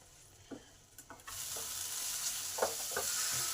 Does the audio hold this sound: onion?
yes